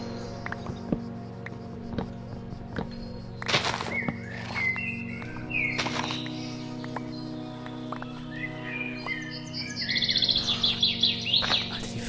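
Bird chirps in the video game Minecraft: scattered short tweets and trills, clustering into a quicker run near the end, over a steady sustained tonal background with no talking.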